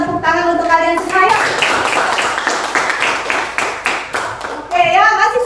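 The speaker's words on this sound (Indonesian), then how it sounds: "Yuk kita tepuk tangan untuk kalian semua." Children in a classroom clap together in applause for their groups, a burst of rapid hand claps heard between stretches of an adult woman's speech.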